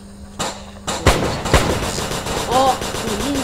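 Several sharp video game gunshots crack in quick succession, loud and near, followed by a short burst of rapid fire with a faint voice underneath.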